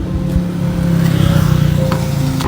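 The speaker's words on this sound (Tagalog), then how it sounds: "May paparating na sasakyan!" Car approaching and revving close by, a loud rising engine drone with a tonal whine, brief and continuous.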